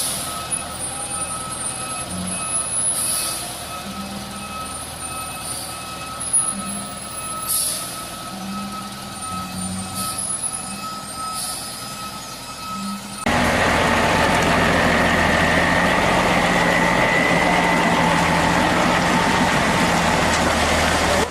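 Heavy truck working on a steep muddy incline: at first a low engine rumble with intermittent hissing bursts and a thin tonal whine, then a sudden switch to a loud, dense, continuous roar of the engine under load.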